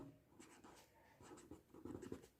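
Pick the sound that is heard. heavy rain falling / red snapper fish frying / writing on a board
writing on a board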